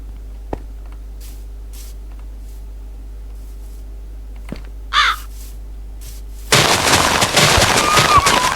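Seagulls in a Minecraft farming world squawk as they are attacked: faint clicks at first, then a short rising cry midway, followed by a loud, dense burst of noisy game sound toward the end.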